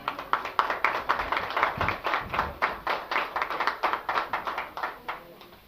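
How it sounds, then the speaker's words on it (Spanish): Rhythmic clapping from a church congregation, many hands beating in a steady quick pulse, close and lively. "le dé un aplauso a Dios"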